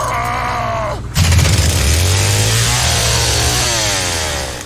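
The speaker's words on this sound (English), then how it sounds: "replicate an actual chainsaw engine" A replicated chainsaw engine built for the Texas Chain Saw Massacre video game kicks from a quieter idle into a loud, steady running roar, holding with slight pitch rises and falls, close and alone.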